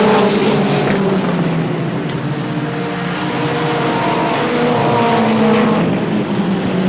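Race cars lap at Star Speedway in 1997 in a continuous, loud roar of several engines overlapping, the pitch sweeping up and down as the cars pass.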